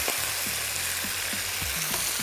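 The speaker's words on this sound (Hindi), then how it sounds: "और अब इसकी हो जाएगी शुरू भुनाओ फ्राइंग, तो करेंगे भुनाई।" Meat fries in a pot during bhunai for shahi qorma, giving a dense close sizzle with small pops and spoon scrapes. It is loud and continuous, and no one speaks.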